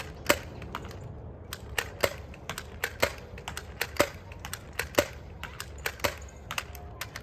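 Nerf Dart Zone Pro blasters being loaded with darts: a rapid, irregular run of sharp plastic clicks and snaps, close and fairly loud, continuing without pause and with no talking.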